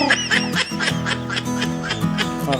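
Ducklings of a larger brood quack in a dense, overlapping chorus of repeated calls, loud and close throughout, with no talk over them.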